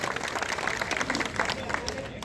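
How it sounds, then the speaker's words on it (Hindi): A crowd at a protest sit-in at Jantar Mantar, New Delhi claps and applauds steadily, a dense patter of hands with some murmuring voices mixed in. "इनके लिए एक बार जोरदार तालियां और अभिनंदन।"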